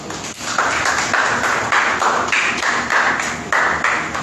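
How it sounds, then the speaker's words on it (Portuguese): A church congregation at a Portuguese-language worship service claps in a steady repeated rhythm, loud and close, with music behind it and no talk over it. "Aleluia, aplauda o nome de Deus essa noite."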